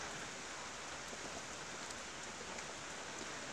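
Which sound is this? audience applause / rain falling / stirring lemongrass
rain falling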